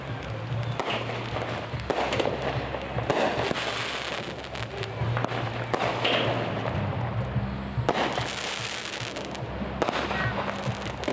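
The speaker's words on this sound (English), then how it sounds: "That's where they're going to launch the fireworks from." Fireworks bursting after dark during a July 4th celebration in a Colorado wilderness area, a steady run of booms and crackles with low rumbling underneath, fairly continuous and moderately loud, with faint voices in the background.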